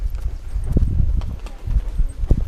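Hooves of a ridden horse clip-clop at a walking pace on the way to a country church, steady close hoofbeats with soft rustling between strikes.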